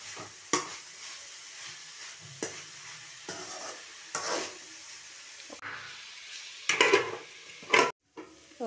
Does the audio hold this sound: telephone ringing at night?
no